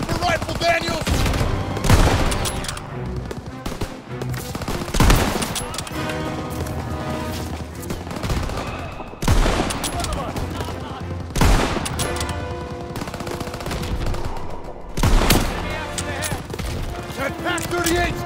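Gunfire in Call of Duty WWII during a battle on the Operation Cobra campaign, with dense rifle and machine gun fire, repeated loud volleys and bursts over a busy background of combat sound.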